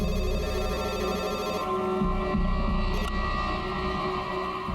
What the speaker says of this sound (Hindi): हाँ, वो मेरा फोन है।